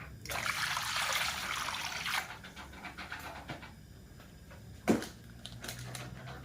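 Water is poured into a pan of buttered garlic seafood with a bay leaf and pepper, a brief rushing pour that fades into quieter bubbling and a single clink.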